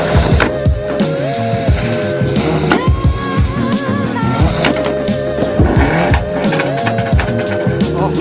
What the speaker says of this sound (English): The Evo 10 is so much louder with all the pops.